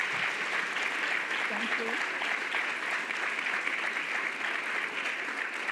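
Sustained audience applause at a World War II history conference, steady dense clapping filling the room for several seconds, with a brief spoken thanks over it.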